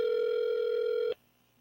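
A telephone dial tone hums steadily and close for about a second on an outgoing call, then cuts off abruptly into near silence.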